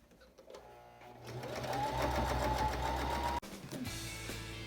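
A sewing machine stitches a quarter-inch seam around a cloth face mask. The motor whirs up after a quiet start and runs steadily, cuts out abruptly, then hums back on.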